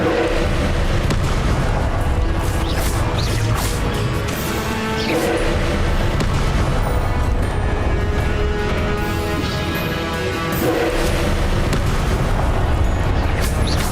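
Incendio fire spell cast in the video game Hogwarts Legacy, a loud dense roaring blast of fiery bursts and rumbling booms that fills the whole stretch with continuous heavy crackle and no speech.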